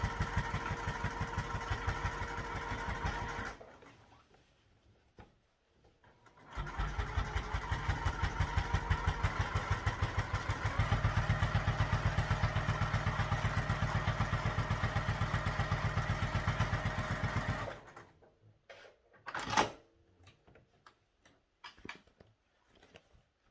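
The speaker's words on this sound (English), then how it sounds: "Okay, I like to sew down the other side as well, just to keep consistent." A sewing machine top-stitches a quilt seam in two loud, close runs of rapid even stitching separated by a short pause, then stops and gives way to scattered clicks and handling noises.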